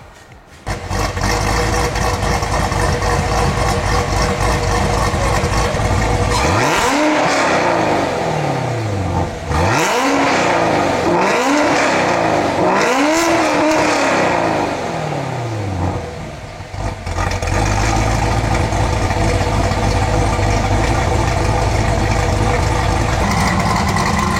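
A modified car engine cranks and fires up, revving hard several times with rising and falling roars, then settles into a loud, rumbling idle nearby.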